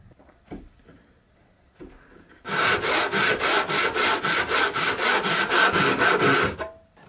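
A handmade tenon saw, resharpened for crosscut, cuts through wood in a small workshop with a steady run of about a dozen rhythmic strokes, loud and close, after a few quiet knocks.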